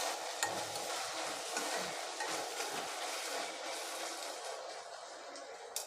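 Steady frying sizzle of tomatoes sautéing in a pan with occasional scraping stirs, fairly quiet and continuous, no voices.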